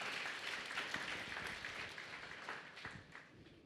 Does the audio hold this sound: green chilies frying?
no